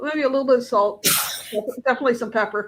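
A single sharp sneeze bursts out between stretches of conversational talk while cooking, close and loud, with speech before and after it.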